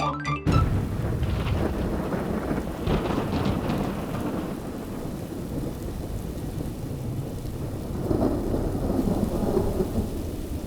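Heavy rain pours steadily with loud rolls of thunder in a stormy downpour, a continuous dense roar that swells again near the end, with no voices.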